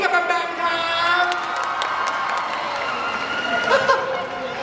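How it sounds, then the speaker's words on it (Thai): Crowd at the Seacert Forest Cleansing event with BamBam cheering and clapping, a dense sustained roar of shouts and high voices with applause mixed in, steady and loud throughout. "ทุกคนปรบมือกับแบมแบมครับ"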